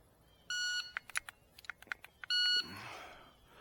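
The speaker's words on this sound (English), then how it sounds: "I just hit my timer." Electronic shot timer used for dry-fire Steel Challenge practice: a sharp steady beep starts, a quick series of light clicks and taps follows, then a second long beep and a soft rustle.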